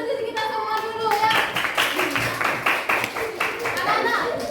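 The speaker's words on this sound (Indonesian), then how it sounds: "Tepuk tangan untuk diri kita semua dulu ya." A class of children claps hands together in a classroom, a brief burst of fast, close clapping after a teacher's voice, with kids' chatter mixed in.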